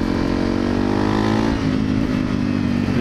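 Honda CRF250L dirt bike fitted with a Yoshimura full exhaust system rides past, its engine droning and revving upward with a rising pitch, loud and close, with wind buffeting underneath.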